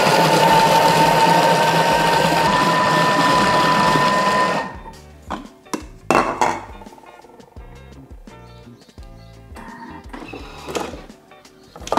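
A Thermomix food processor whirs loudly and steadily while mixing a chicken, mushroom and bacon terrine, then stops abruptly, leaving scattered clinks, knocks and handling sounds of the kitchen.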